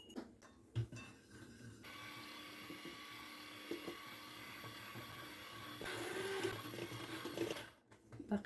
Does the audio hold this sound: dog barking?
no